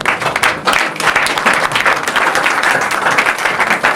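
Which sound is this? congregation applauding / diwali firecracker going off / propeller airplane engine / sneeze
congregation applauding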